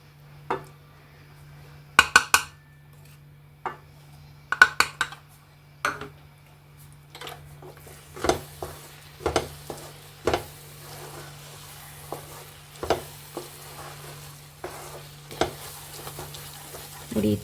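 A spoon stirs and scrapes a mango laddu mixture of milk powder and jaggery in a pan, giving irregular clinks and taps over a steady low hum, with no talking.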